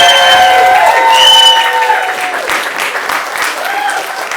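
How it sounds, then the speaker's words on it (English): A pub audience at an astronomy talk event cheers and claps loudly, with whoops and shouts over dense applause that stays strong throughout. "So cheer and clap as loud as you want for your favourite"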